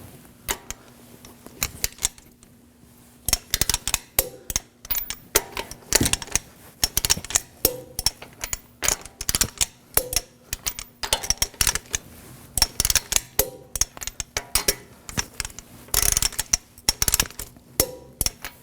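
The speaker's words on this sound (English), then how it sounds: "Now we're going to torque our wheel down to 80 foot-pounds on a star pattern." Wheel lug nuts on an Acura MDX being tightened with a torque wrench in a star pattern, heard as rapid, close ratcheting clicks in dense bursts that continue steadily throughout.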